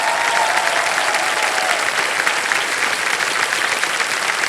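Steady, dense applause from a TV quiz show studio audience, clapping evenly at full volume for the whole stretch with no voices standing out.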